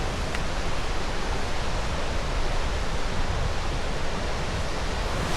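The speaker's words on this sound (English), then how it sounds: "We got to the waterfall" Powerful, continuous roar of Comet Falls on Mount Rainier heard up close, a dense broadband rush of falling water that stays loud and unbroken throughout.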